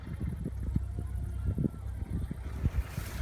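A tractor drags a Ukrainian disc harrow across a field in the late evening, a steady low engine drone with rumbling, uneven knocks from the discs, fairly close, mixed with light wind noise.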